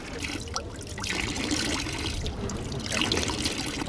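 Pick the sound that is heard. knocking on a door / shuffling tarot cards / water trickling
water trickling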